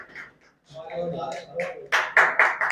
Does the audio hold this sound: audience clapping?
yes